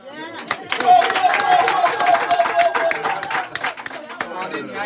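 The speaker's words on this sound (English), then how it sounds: "I hear the pregnant woman clapping, the woman clapping sufficient." Women in an outdoor campaign-rally crowd clap in a dense, uneven patter, mixed with shouts and lively chatter throughout.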